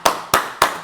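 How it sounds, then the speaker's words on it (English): Three sharp, evenly spaced claps ring out close and loud over about a second, sounding more like a single person clapping than a full crowd applauding at a season finale awards show. "So we gotta give the biggest applause to him right now."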